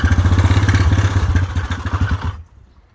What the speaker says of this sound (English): Always try to engine brake as much as I can